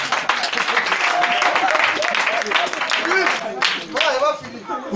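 A church congregation applauds, a dense patter of many hands clapping close and loud, mixed with cheering voices, easing off briefly near the end.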